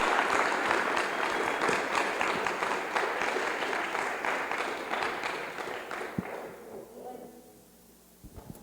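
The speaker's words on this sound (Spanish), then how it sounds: "les invito a que podamos darle nuevamente un fuerte aplauso para poder despedir al maestro Rafael" An audience gives loud sustained applause to send off a teacher at an event, then the clapping fades out near the end with a few last scattered claps.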